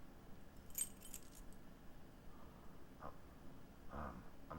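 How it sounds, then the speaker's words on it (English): Keys jangling in the PS2 game Silent Hill 4, a brief metallic rattle early on followed by a few soft clinks, faint over a low ambient hum with no talking. "So you could hear him wrestling around with the keys."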